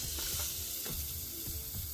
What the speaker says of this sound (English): nice sizzle, right?